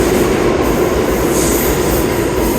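An R179 New York City subway train passes through the 8th Avenue platform at Penn Station, a loud, close, continuous roar of wheels and rails with squealing, heard alone.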